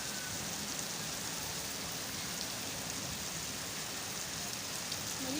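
Steady rain falls over Lahore, a dense, even hiss of drops on surfaces that holds at the same level for the whole stretch, with no voices.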